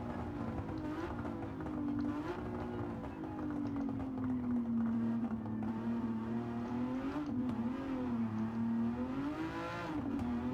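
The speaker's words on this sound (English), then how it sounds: "We short shifted and bogged the engine down a bit." Aston Martin DB11 engine in Gran Turismo 7 on the Tokyo Expressway, a steady loud drone that rises and dips in pitch through gear shifts and bogs down briefly, continuous with no talk.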